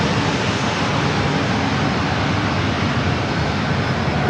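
A Southwest Airlines Boeing 737 MAX 8 jet at San Diego airport, its engine roar loud, close and dense, a continuous broadband rush with no voices.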